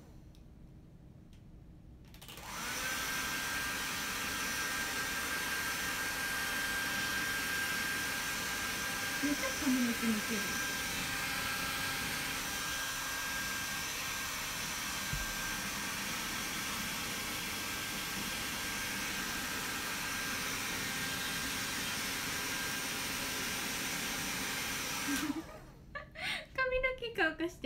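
A hair dryer blowing on hair, a loud, steady whooshing drone that switches on after a couple of seconds and runs nearly unchanged for over twenty seconds before cutting off, with voices talking under it.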